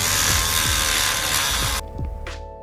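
A small Dremel rotary tool grinds and shapes a plastic Xbox 360 console case, giving a steady close buzzing whine with scraping strokes before it stops and spins down.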